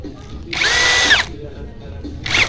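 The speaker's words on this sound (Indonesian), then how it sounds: "Kita pakai mode drilling dulu ya." A 10mm impact drill running in drill mode gives two loud, close whirring bursts, a longer one lasting under a second followed by a shorter one, with quieter room noise between them.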